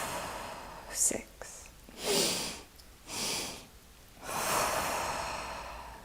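Slow, deep breathing during a guided relaxation exercise at a coaching break, with several unhurried airy inhales and exhales, the last one long and drawn out, close and soft.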